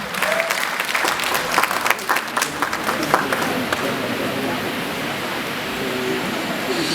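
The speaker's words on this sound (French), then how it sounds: "des applaudissements, s'il vous plaît, pour Buzz Studio." A crowd at a film awards ceremony breaks into sustained applause, a dense, loud wash of clapping with a few distinct claps at first, then steadying into an even roar.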